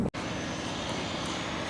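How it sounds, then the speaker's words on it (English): Steady, droning engine of a seaplane on the water in Copenhagen's harbour, a continuous, fairly distant hum with no talking over it. "think it's a plane on the water. I don't know if it just landed or if it's about to take off"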